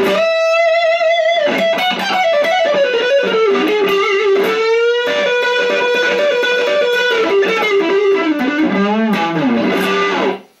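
An electric guitar runs through a distortion pedal on a pedalboard with only modest amp gain, playing a sustained, harmonically rich melodic line at steady loudness for about ten seconds before cutting off abruptly.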